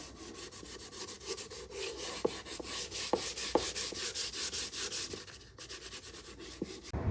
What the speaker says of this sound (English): I've got 220 sandpaper and I'm gonna lightly distress.